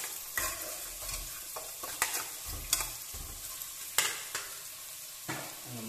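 Chicken frying in a pan of Kerala-style masala for chicken pollichathu, a steady close sizzle broken by repeated scraping thuds of a spatula stirring the pieces through the spice mixture.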